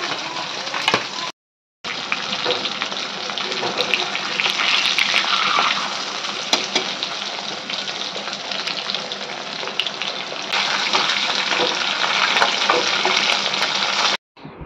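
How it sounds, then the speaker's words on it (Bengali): Hilsa fish frying in a pan, a loud, steady sizzle with crackling spatter that runs almost the whole time, broken only by a brief gap near the start. "তোমার জন্য ইলিশ মাছ ভাজছি"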